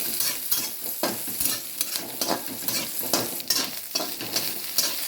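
Fish in green masala sizzles and fries in a pan while a utensil stirs and scrapes repeatedly, close and moderately quiet, with soft irregular clatters.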